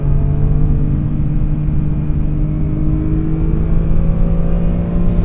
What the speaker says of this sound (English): Such a smooth engine, as BMW inline six engines tend to be.